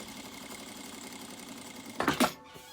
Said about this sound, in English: So just baste, which just means sewing within 5mm from the top edge across the top.